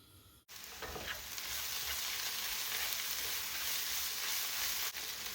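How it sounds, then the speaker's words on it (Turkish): Onions and tomato paste sizzle steadily in a hot pan as they are stirred for börek filling, a continuous close frying hiss with a few light scrapes and no talking. "Salçayı da şöyle iyice karıştırdık. Soğanın her tarafına bir değdirdik."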